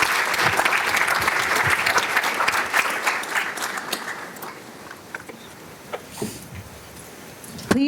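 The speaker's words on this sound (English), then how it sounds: "Can we please give him a round of applause?" An audience applauds after a student speaker in a college class session. Dense clapping is loud at first, then thins to scattered claps and fades, with a few brief voices near the end.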